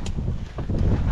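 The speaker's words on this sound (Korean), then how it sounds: "가면 갈수록 바람 시원해" Wind rushes across Inwangsan mountain in Seoul, a steady low buffeting roar against the microphone with brief gusts, while hikers speak softly nearby.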